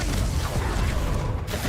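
A Confringo spell being cast in the Hogwarts Legacy video game, heard as a loud, dense rumbling burst with creaking, whooshing texture that carries steadily and then drops off sharply near the end.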